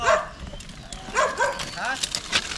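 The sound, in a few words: dog barking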